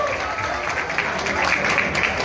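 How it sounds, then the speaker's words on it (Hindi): An audience applauds for a casino owner at a celebratory event: dense, continuous clapping from a crowd, fairly loud and sustained throughout, with some voices mixed in. "ताली बजाइए सर के लिए"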